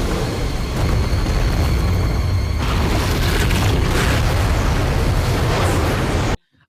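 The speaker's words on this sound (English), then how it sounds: "Beautiful bloody explosion." A film explosion from the shark thriller Deep Blue Sea, a loud sustained roaring blast of broadband rumble lasting several seconds before cutting off abruptly, with no talk over it.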